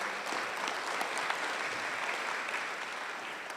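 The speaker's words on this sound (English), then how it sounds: "We all give them a round of applause again." A church congregation at a Sunday service applauds, with dense, even clapping from many hands that holds steady throughout.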